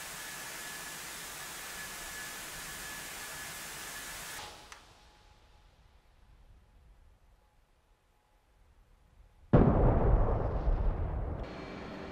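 In the DCS flight game, an AGM-62 Walleye II guided bomb dropped from an F/A-18C Hornet strikes its target with a sudden loud, rumbling blast after a quiet stretch, then rapidly fades.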